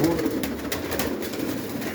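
White broad-tailed pigeons coo nearby in a pigeon loft, with soft, low, rolling calls repeating close up and fairly loud throughout the short stretch.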